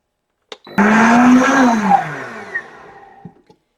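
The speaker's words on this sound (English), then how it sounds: "this has been blending for about 30 seconds, but it may take a little bit longer depending on the type of blender that you're using" A countertop blender whirs through vegan garlic aioli sauce, starting with a short tap then a loud steady motor whine whose pitch shifts slightly as the mixture thickens, before winding down with a couple of clicks.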